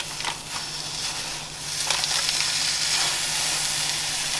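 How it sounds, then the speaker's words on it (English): Chorizo dropped into a hot skillet, breaking into a steady hiss and sizzle after a few brief clatters, close and moderately loud. "this is going to go in to my hot skillet"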